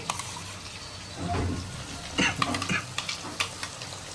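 Ginger garlic paste fries in a pan for chicken biryani, with a soft sizzle under repeated stirring scrapes and a few metallic clinks of a spoon against the pan, close by and fairly quiet.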